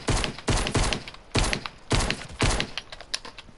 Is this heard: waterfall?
no